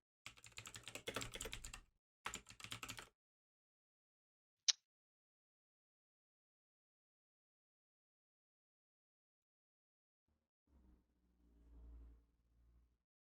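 Computer keyboard typing comes in two quick bursts of rapid clicking at the start, followed by a single sharp click, then near silence before a faint low murmur of voices near the end.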